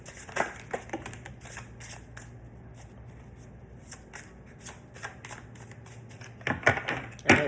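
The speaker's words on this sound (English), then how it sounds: "I don't want that many cards, so I'm not going to continue shuffling." Cards are riffled and shuffled in several quick bursts of crisp flutter, close up, with short pauses between shuffles.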